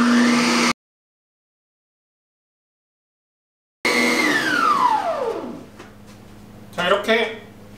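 A Pacojet ice cream machine grinds with a loud motor. After a brief burst of running noise, the motor whine spins down, falling steadily in pitch over a couple of seconds, as a person speaks nearby.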